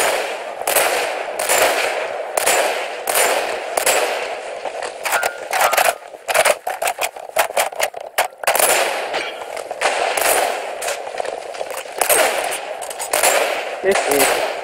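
Sniper rifle fire in a shooter video game, heard as rapid, loud, sharp cracks in irregular bursts across the whole stretch, with occasional clangs mixed in.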